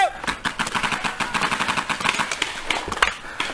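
Gunfire from a shooter blind firing over a fence: rapid, evenly spaced shots repeat throughout, loud and close, with faint shouting in the background.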